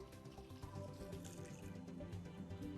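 Water runs steadily from a home water purification system during backwash, a faint, constant rushing flow that continues unbroken and without talk for the whole few seconds.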